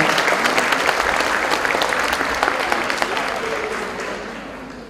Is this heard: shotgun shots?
no